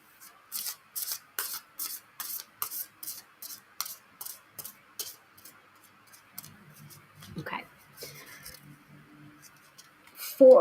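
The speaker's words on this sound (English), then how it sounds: "one more shuffle" Tarot cards are shuffled in a quick run of about a dozen crisp riffling bursts, evenly spaced and close to the microphone, followed by quieter handling and a brief voice.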